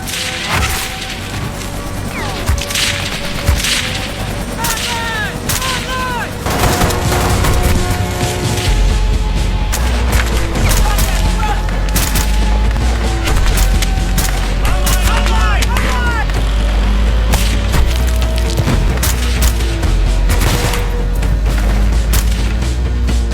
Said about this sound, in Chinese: 美军指挥中心快速反应部队出现，排成一排朝着山下的敌人开枪射击。